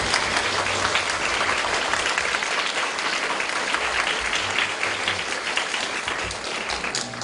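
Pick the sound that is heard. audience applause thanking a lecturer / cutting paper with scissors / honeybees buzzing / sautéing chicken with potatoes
audience applause thanking a lecturer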